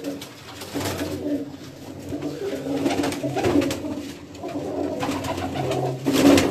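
Flying pigeons in a Gujarat village loft coo softly and continuously close by, their low throaty calls rolling over one another.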